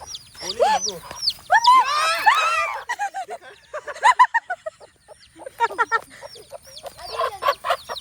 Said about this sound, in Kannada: ಗೈಸ್ ಕೋಳಿ ನೋಡಿ, ಕೋಳಿದು ಮಗು ನೋಡಿ.